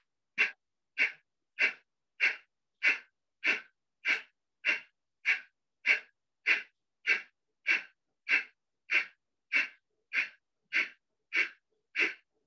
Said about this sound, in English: do Kapalbhati for 30 seconds